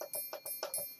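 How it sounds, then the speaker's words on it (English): Triangle percussion in a trap beat: bright metallic dings repeating in a quick, even rhythm, quiet and alone. "The old triangle percussion sound, I haven't used in a while, but I had to."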